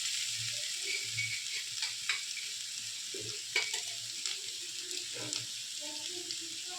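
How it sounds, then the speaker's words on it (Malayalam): Soya chunks stirred and fried in a pan with salt, a continuous sizzle broken by scraping stirs and light clatters of the spoon, close and moderately loud. "നന്നായിട്ട് മൊരിയുന്നത് വരെ ഇളക്കുക."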